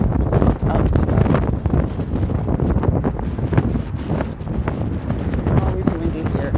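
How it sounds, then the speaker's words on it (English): Heavy wind buffets a phone microphone outdoors in St. Augustine, a constant loud rumbling roar throughout with gusty crackle. "It's always windy here."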